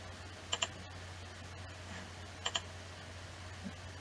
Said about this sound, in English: So type 16 and enter.